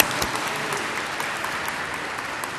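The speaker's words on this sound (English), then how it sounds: "let's give her another round of applause" A large audience claps steadily at a community Asian Heritage Day event, dense sustained applause with no voices over it.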